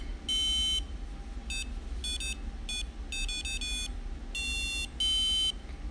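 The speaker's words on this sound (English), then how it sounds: "sound comes out of the piezo" A piezo buzzer in a sewn circuit guitar plushie beeps out a rhythmic tune of short and long high-pitched tones over a low background hum.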